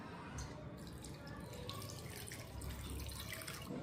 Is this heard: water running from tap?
yes